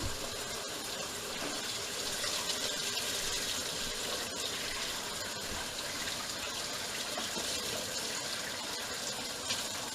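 Water gushes steadily into a washing machine as it begins filling, a continuous close rushing hiss with no speech over it.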